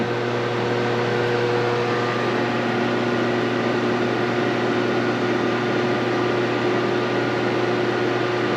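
A woodshop jointer runs down under its brake, a loud steady mechanical whir with a constant hum and broad noise that holds without pause.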